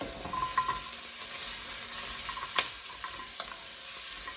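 Onions brown in a pan for soondubu jjigae, a moderate steady sizzle with occasional scrapes and taps of stirring, fairly quiet and close.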